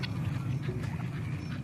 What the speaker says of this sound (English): And I went ahead and got chickens and ducks.